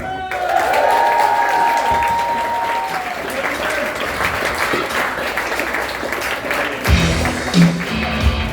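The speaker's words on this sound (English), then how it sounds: "Give a round of applause for Liam." A comedy club crowd greets a comedian with loud, sustained applause and some cheering, a strong dense roar of clapping that gradually subsides, with a voice and a short musical tone early on.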